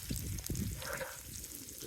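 Pancetta sizzles softly in a pan with potatoes, a faint crackling fry with some stirring noise and no talking.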